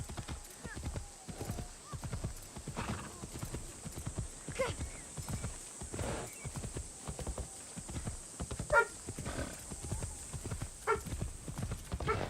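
A horse's hooves clip-clop in a steady, close trotting rhythm in Assassin's Creed Shadows, with an occasional whinny and someone talking over the hoofbeats.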